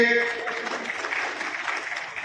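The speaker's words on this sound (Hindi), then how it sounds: "जोरदार तालियां उनके लिए।" An event audience applauds an astrologer being introduced, clapping rising after a voice trails off at the start, then continuing as a moderate, steady patter.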